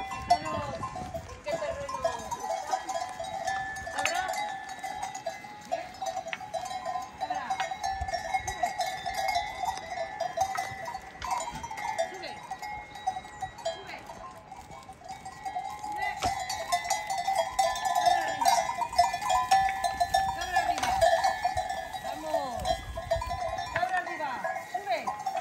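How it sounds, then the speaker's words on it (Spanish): A mixed herd of goats and sheep with clanking bells grazing on hillside scrub, many bells tinkling continuously with occasional bleats, near and far, throughout. "las cabras y las ovejas."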